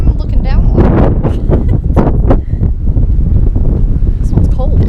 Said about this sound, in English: It's windy. We're out in the open.